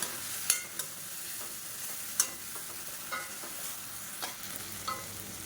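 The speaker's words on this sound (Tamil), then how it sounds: "இஞ்சி பூண்டோட பச்சை வாசனை போகிற அளவுக்கு நல்லா வதக்கி விட்டுக்கலாம்" Ginger garlic paste sautés in a pan for an egg curry, a steady close sizzle with scraping stir strokes and a few sharp spoon clicks against the pan.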